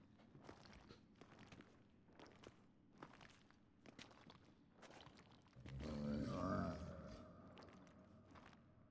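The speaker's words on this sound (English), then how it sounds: "Wait, I hear something stomping around." Heavy golem stomps in The Witcher 3: dull, rhythmic low thuds spaced about every second, then a louder rumbling, roaring swell midway with no talking.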